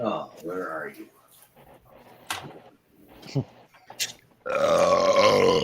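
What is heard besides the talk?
burp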